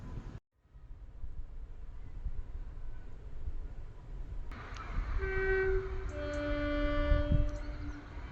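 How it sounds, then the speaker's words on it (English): A freight train on the branch line to Hope Cement Works approaches with a rising rumble, and its horn sounds in several loud sustained blasts over wind noise outdoors. "There's actually a train coming."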